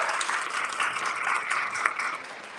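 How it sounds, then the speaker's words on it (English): An audience at a live community event applauds: a dense, steady patter of many hands clapping, moderately loud throughout the short stretch. "A big round of applause to every single one of you"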